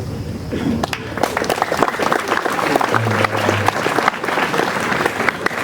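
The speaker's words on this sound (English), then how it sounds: "let's have a round of applause" A homecoming crowd breaks into loud, lively applause with crisp individual claps and scattered cheers, sustained for several seconds near and full.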